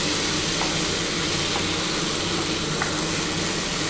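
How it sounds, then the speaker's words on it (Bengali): Potatoes and yardlong beans sizzle steadily in a hot pan while being stirred for a spicy curry, a continuous dense frying hiss with faint scrapes throughout. "বন্ধুরা দেখো আমার কিন্তু খুব ভালোভাবে কষানো হয়ে গেছে।"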